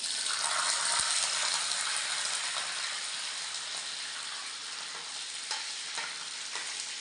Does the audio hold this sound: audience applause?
no